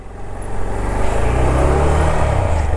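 A Runner Knight Rider V2 150cc semi-racing motorcycle pulls away in first gear, its engine a loud, steady low drone that holds close and builds slightly as it moves off.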